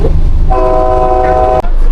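A train horn sounds one sustained blast of about a second over the rumble of a moving train at its final stop, then cuts off abruptly.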